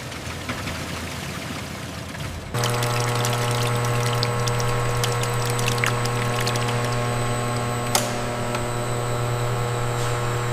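A liquid pump transfers glycerin in a soap factory, switching on abruptly with a steady loud mechanical drone and tonal hum that runs continuously, with one brief clank partway through.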